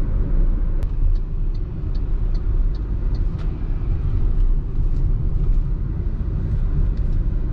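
Road noise inside an MG ZS on a rough-surfaced highway, a constant loud low rumble and tire roar with faint ticks over it, with no one talking.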